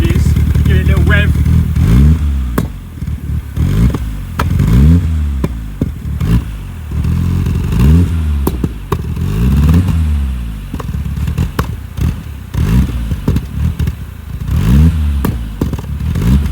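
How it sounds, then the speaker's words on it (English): An RS Cosworth engine with anti-lag switched on revs repeatedly in loud rising and falling bursts, with crackling and popping between the pulls, close by. "I'm just going to quickly turn on the anti-lag just for a quick show. So you can hear straight away the tone changes. Give it a little rev."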